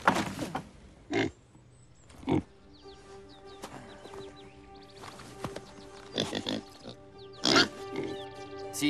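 A pig in an animated Dutch fairy tale gives several short, separate grunting oinks, close and clear, over a soft sustained musical background.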